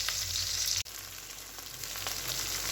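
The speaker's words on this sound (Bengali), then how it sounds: "এই যে এখানে আবার মাছ ভাজা হচ্ছে" Small fish frying in a pan make a constant close sizzle. It cuts out sharply for an instant and then resumes with a steady crackle.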